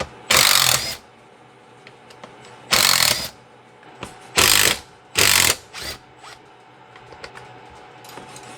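Handlebar being unbolted from a Stihl MS271 chainsaw with a ratchet: four loud, brief clicking bursts of ratcheting, close up, separated by quiet pauses and a few faint clinks.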